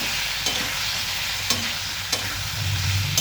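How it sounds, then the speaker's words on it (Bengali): Tomatoes fry in a hot pan, a steady dense sizzle with occasional sharp scrapes of a spoon stirring, close and loud with no voices. "ভালোভাবে ভাজা ভাজা করে নিতে হবে।"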